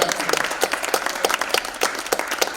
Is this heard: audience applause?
yes